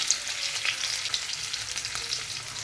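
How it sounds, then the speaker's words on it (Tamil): Egg masala spices with salt and chilli powder sautéing in a hot pan, a steady close sizzle and fry with faint stirring scrapes throughout, no talking. "ஸோ இதை நல்லா சாட்டே பண்ணிக்கோங்க."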